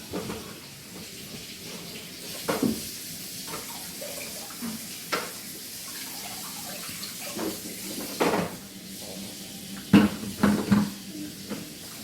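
Water splashes and trickles during an aquarium water change, with scattered clunks and knocks of tank decor being handled, a busy wet sound at moderate, uneven loudness.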